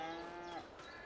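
Cows mooing in a farming simulation game, one drawn-out low moo with clear harmonic tone over a quiet background.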